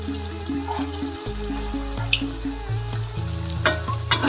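Food fries in a pan of hot oil with a steady, close sizzle, while stirring and scraping noises come and go.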